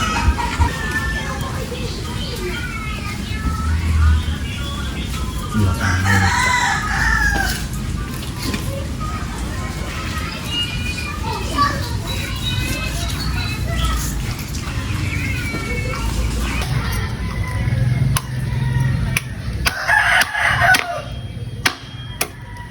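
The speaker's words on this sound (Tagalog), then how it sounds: "Yung manok po ni Jan Jan" A rooster crows a few times in the distance while people talk and move about nearby, with native chickens clucking under the voices.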